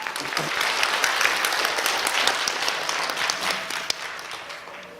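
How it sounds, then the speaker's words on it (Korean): Audience applause in a lecture hall, steady full clapping from many hands that gradually thins and fades toward the end. "박수 한번 쳐주시죠"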